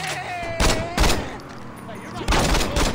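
Pistol shots from the video game Saints Row 2, a few separate broadband bursts spaced irregularly over game sounds, with a voice talking at times between them.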